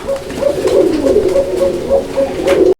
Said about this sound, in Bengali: এখানে দুই পিস কবুতর আছে একসঙ্গে